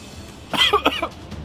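A single short, rough cough or throat-clearing burst close by, lasting under a second against quiet background.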